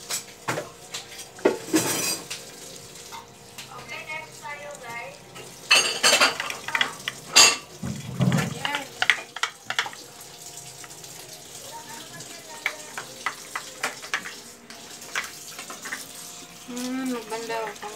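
Dishes and pots being washed by hand after a meal, with clattering plates, clinking utensils and bursts of running water, close and uneven, with occasional talk.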